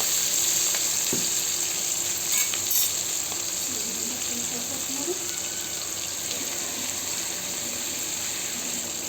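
Curry leaves and onions fry in a pan, a loud, even, continuous sizzle with a faint hiss, a brief clink and a few soft stirring sounds, with no talking.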